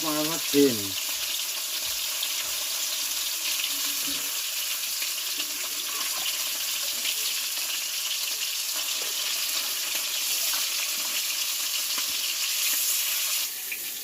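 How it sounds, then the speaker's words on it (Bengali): Steady, dense sizzling and spattering of fish frying in hot oil, close by and continuous, with a brief clink at the start. "বাউল মাছ ভাজা শেষ এবার চিংড়ি মাছগুলোকে ভাজতে হবে"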